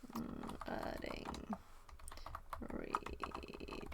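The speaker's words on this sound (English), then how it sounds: "I'm also typing got instead of get." Rapid typing on a computer keyboard, a steady patter of clicks with a brief pause midway, close and moderately loud with some talking over it.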